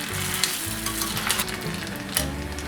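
A seaweed and rice-paper roll sizzles and fries steadily in a pan as it is flipped, with a continuous close crackle and small clatters of utensil against pan.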